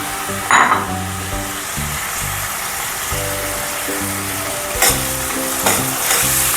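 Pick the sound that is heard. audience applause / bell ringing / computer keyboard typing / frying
frying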